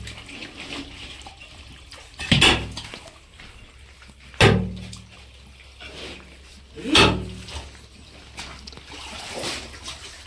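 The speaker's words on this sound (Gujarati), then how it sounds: "એક ધારું પાણી આવે છે" Water flowing steadily into a 22-foot farm well in a village, a continuous splashing stream with a few louder surges of gushing water, heard close and without talk.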